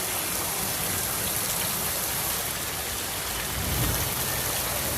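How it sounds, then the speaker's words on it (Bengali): Heavy rain pours steadily in Dhaka after intense heat, a dense, loud hiss throughout with no distinct thunderclap standing out. "দেখেন আকাশে বজ্রপাত হচ্ছে আর প্রচন্ড গরমের পরে, প্রচন্ড গরমের পরে আরামদায়ক বৃষ্টি"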